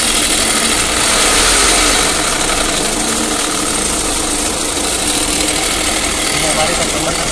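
A Tata Safari engine runs steadily up close with a noisy alternator clutch pulley, giving a loud, continuous mechanical drone with a rough, rattling texture throughout and no break in the sound.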